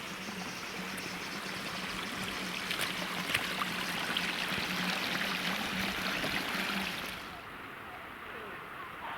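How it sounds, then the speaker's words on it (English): River water rushing steadily around a small island at Bolton Abbey in the Yorkshire Dales, a broad constant flow at moderate level that drops away abruptly near the end, with some voices faintly underneath. "the river diverts and goes round and forms like a little island"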